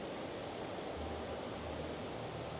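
A waterfall pours as a constant, even wash of broadband roar, close and steady with no breaks, no voices.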